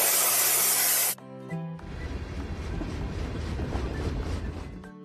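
A paint spray gun fires a loud, dense hissing burst for about a second in a kids' animated construction scene building a train track, followed by softer rumbling and rattling sounds.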